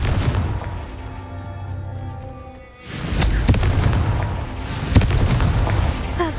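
A Confringo spell goes off in Hogwarts Legacy with a heavy explosive boom, then a rumbling blast with sharp cracks and a second thump, loud and close, following a quieter shimmering stretch.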